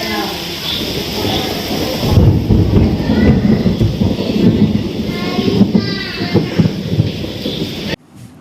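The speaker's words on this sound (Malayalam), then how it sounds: "രാത്രിയായപ്പോൾ നല്ല ഇടിയും മിന്നുണ്ട് കേട്ടോ" Thunder rumbles through an evening storm, a loud rolling low growl over steady rain that cuts off abruptly at the end.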